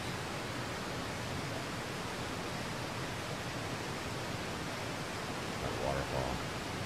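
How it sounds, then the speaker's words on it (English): A waterfall from a Naruto anime episode rushes as a steady, broadband hiss of falling water, faint and continuous, with a brief voice near the end. "That waterfall."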